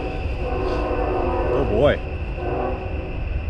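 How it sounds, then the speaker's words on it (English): A train rumbles steadily past a hidden urban creek campsite, its low drone and a rising horn-like squeal close by, with a brief remark spoken over it. "that train is really going for it"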